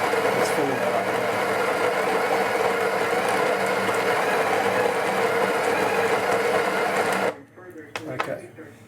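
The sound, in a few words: Breville Barista Express coffee machine grinder grinding beans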